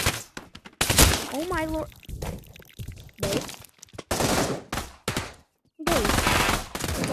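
Video game gunfire sounds in bursts as a player shoots at teammates, sharp cracks scattered across the clip alongside excited talking and shouting.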